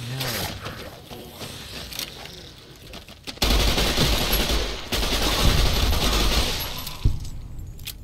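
Video game gunfire in Fallout New Vegas: loud, rapid automatic bursts that kick in sharply partway through and keep going, with a heavy crack near the end and a few quieter shots earlier, over faint talk.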